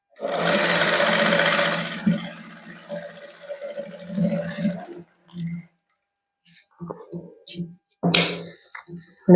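A sewing machine stitches a plain suit at a boutique, a loud steady whirring run for the first couple of seconds that slows and fades, then short stop-start bursts, with someone talking over the later part.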